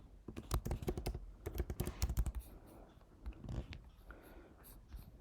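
Someone types on a computer keyboard in short bursts of quick, close key clicks with brief pauses between, while setting up a Jira sprint board.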